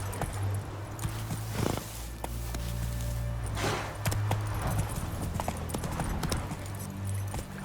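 A horse's hooves clop steadily on the ground in The Witcher 3, with rhythmic hoofbeats close by over a low droning game background. No one speaks.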